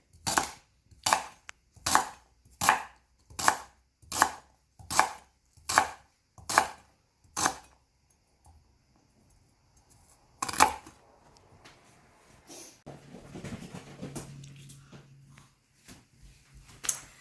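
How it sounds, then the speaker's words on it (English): A knife chops rhubarb into inch-sized pieces on a board, eleven sharp, evenly spaced cuts in a steady rhythm, close and crisp, followed by quieter clattering and handling sounds. "Now you can cut more than one rhubarb piece at a time if you like, but we need to have them chopped."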